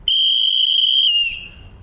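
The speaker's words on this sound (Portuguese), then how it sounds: "Quando você vai chamar o animal no lure, você tem um apito diferenciado, que é constante" A falconer's steady, constant whistle calling a bird of prey to the lure, one shrill unbroken high tone held for over a second then sliding down and cutting off, loud and close with nothing else around it.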